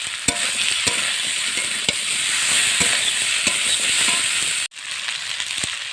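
Onions sliced into rings fry in a pan with a loud, steady sizzle and crackle, broken by sharp utensil clicks and a brief cut-off near the end.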